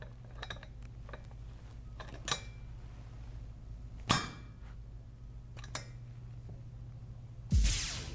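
A grease tester plunger is pushed during a test of Bobcat Supreme Heavy Duty Grease, giving a few sharp clicks and a final loud burst of air over a steady low mechanical hum.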